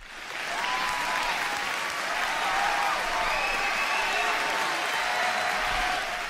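Steady, dense applause from an assembled group fills the whole stretch, loud and sustained, with a few high whoops or whistles rising above the clapping.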